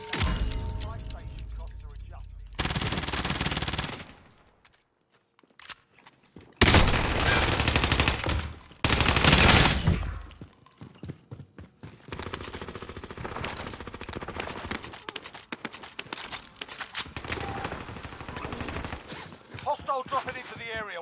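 Gunfire in Call of Duty: Modern Warfare, with loud bursts of automatic fire and shattering impacts that come and go between quieter gaps, and clipped callouts spoken over parts of it.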